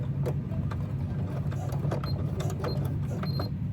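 A sewing machine runs steadily while back-stitching a handbag, giving a continuous low mechanical hum with quick ticking clicks on top, close up and fairly loud.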